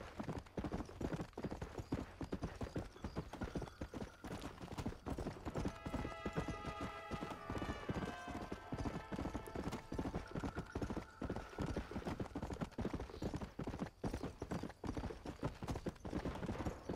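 Horse hooves clip-clop at a steady trotting rhythm in the video game Red Dead Redemption, close and continuous, with a brief whinny partway through and someone talking over it.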